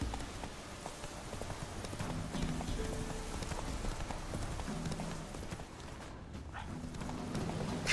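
Horse hooves clip-clop steadily in The Witcher 3, a continuous rhythmic trot with soft rain-like background texture throughout.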